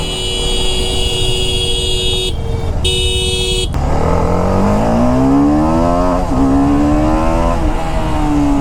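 A TVS Apache RR 310 motorcycle accelerates through clutchless upshifts, its engine note rising in pitch, dropping briefly at each shift and climbing again, loud and close over a high steady whine.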